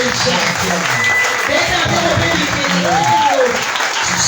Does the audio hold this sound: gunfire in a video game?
no